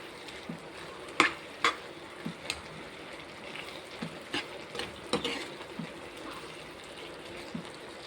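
Tomato curry with onions cooks in a pan, a soft low sizzle running steadily beneath intermittent sharp scrapes and clinks of a spoon stirring, with no talking.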